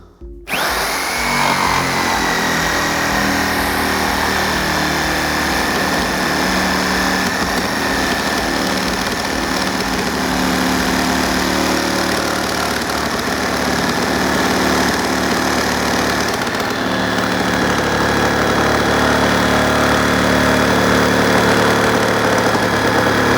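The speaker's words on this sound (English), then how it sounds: "let me show you the corded jigsaw." A corded jigsaw cuts continuously, a loud steady motor whine with rapid rattling blade strokes that runs unbroken throughout, its pitch shifting slightly partway through.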